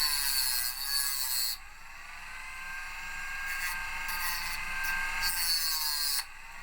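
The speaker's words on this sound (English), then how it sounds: "I'll use a cutting disc in Dremel." A Dremel fitted with a cutting disc cuts through plastic tubing with a loud, steady high-pitched whine. The pitch shifts slightly as the disc bites into the plastic and eases off.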